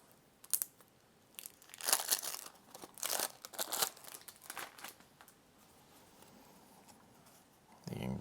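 A card pack's tearaway strip is pulled open and its wrapping handled, giving a run of close crinkling, crackling and tearing bursts, then a brief rustle near the end.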